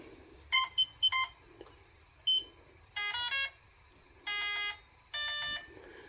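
Electronic beeps from the speed controller of a 1/14 Tamiya Grand Hauler RC semi truck, first short chirps, then three longer tonal beep bursts evenly spaced, clear against a quiet background hum.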